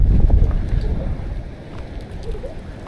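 Strong coastal wind at Ka'ena Point on Oahu, Hawaii, rumbles heavily against the microphone at first, then eases to a softer, uneven whoosh.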